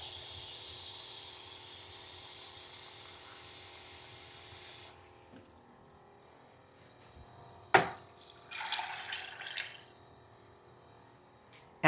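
Water is poured into a pot holding a cup of rehydrated beans and a little olive oil. A steady hiss fades, then a close splash and a short burst of pouring follow, with no talk.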